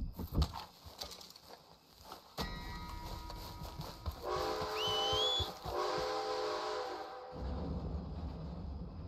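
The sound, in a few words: train passing in the video game Red Dead Redemption 2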